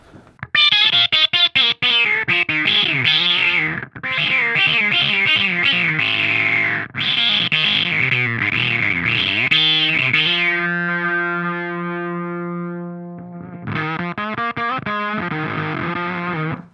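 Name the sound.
guitar through filter effect pedal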